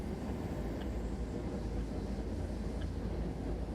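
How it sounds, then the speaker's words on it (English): DB BR103 electric locomotive in Train Sim World 3 on the Linke Rheinstrecke near Bingen, a low steady rumbling drone of a fairly loud locomotive running at speed, muffled and continuous with no voices. "it is a fairly loud locomotive"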